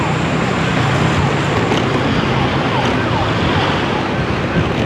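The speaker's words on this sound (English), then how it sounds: "You can still hear that ambulance." Ambulance siren carrying through heavy roadway traffic, heard from a motorbike on the long road from Surabaya to Banyuwangi, a faint wavering tone buried under steady, loud engine and wind roar for the full five seconds.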